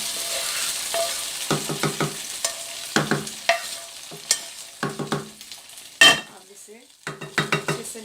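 Mutton frying in a pot with a soft sizzle, stirred by a metal spoon that clatters and scrapes against the pot in quick clustered strokes, loud and close.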